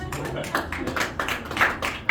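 Audience at a Nashville magic show clapping, a short burst of close, uneven hand claps from a small crowd.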